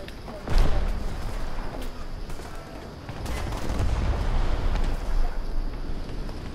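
In the War Thunder video game, gunfire and bomb impacts pound a tank: sharp bursts and heavy thuds over a rumbling engine bed, with a loud hit near the start and continuing dense clatter throughout.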